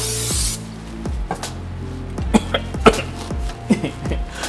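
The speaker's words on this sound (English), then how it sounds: "spray up our wok." A short burst of cooking oil spray hisses onto a wok at the start, then quiet knocks and clicks follow.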